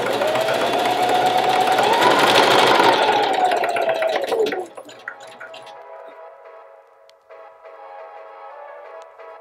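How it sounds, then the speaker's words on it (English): Sewing machine running a straight stitch along pillow seams with white thread, a fast whirring motor hum for several seconds that stops abruptly, followed by quieter clicks and handling noises. "I'm just gonna use my sewing machine"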